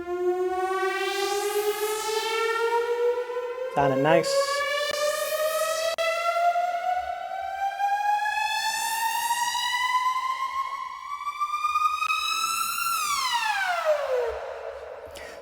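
A synthesizer riser for house music built on a saw wave with modulation: a bright buzzy tone sweeps steadily upward in pitch for about thirteen seconds, then drops away, with a brief glitchy burst early on and a short spoken remark.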